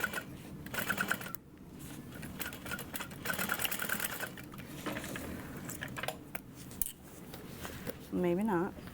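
A sewing machine stitches a tote bag in a quiet room, running in short bursts of rapid needle clatter with pauses and handling noises between them.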